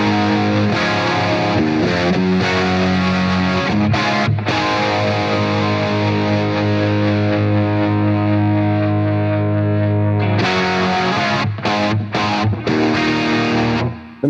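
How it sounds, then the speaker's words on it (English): Distorted electric guitar played through the Blackstar St James amp plugin with chorus added, sustained heavy chords and riffs with brief gaps, loud and alone without talk. "Let's put a chorus on there"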